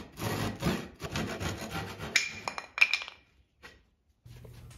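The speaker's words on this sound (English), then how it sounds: "a handsaw can finish off the last bit." A handsaw rasping back and forth through a wood panel to finish a cut, several quick close strokes followed by a few light clinks and a short quiet tail.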